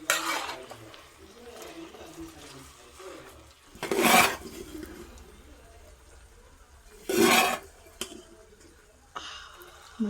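A ladle scrapes and stirs tapioca into biryani in an uruli pot, with a few loud clanking bursts of metal against the pot separated by quieter rubbing, and a voice talking softly in between.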